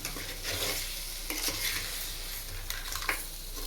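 Crab being stirred through masala in a cooking pot, a steady soft sizzle with scraping strokes of the spoon at intervals, close and alone.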